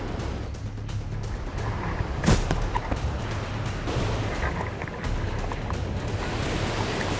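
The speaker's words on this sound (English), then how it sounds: "All I've got is just these 5-foot swells coming at me." Open ocean with 5-foot swells rolling in around a stand-up paddleboard, a steady broad wash of surf and water with wind buffeting the microphone, continuous and fairly loud with no speech.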